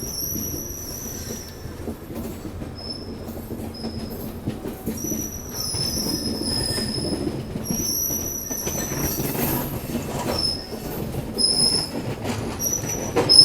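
The 12809 Howrah Mail rolls over a double diamond crossing near Nagpur, with a continuous low rumble of wheels on rails under repeated high metallic squeals that come and go over about thirteen seconds.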